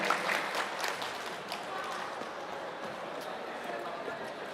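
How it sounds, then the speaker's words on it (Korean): Crowd clapping in a steady, dense patter that tapers off gradually, moderately loud throughout. "큰 박수로 보내드리고 싶습니다. 박수!"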